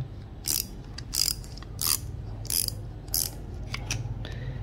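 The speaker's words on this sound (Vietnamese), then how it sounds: "đây là cái cờ lê tự động quạt rồ 10 ml đây cho các bạn nghe cái tiếng tách tách của nó" A WorkPro 360° swivel-head 10 mm ratcheting wrench gives off quick bursts of dry, metallic clicking. There are about eight short runs of ratchet ticks close to the mic, separated by brief pauses, over a low background hum.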